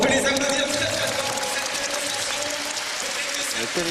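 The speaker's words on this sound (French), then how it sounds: "On peut les applaudir très très fort." Audience applauding the fighters at a French canne de combat and bâton martial arts demonstration, a dense steady clapping throughout with some voices mixed in.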